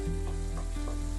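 Potatoes, tomato and mustard paste fry and get stirred in a pan, a steady close sizzle with soft scraping strokes of a spoon and no voices.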